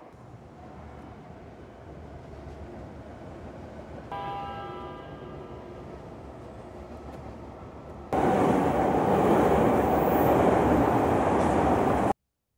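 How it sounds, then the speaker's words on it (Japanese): A train passes through a Japanese station platform, a steady rumble building as a chime sounds midway, then a much louder rush of the passing cars that cuts off abruptly. "1番線を電車が通過いたします。"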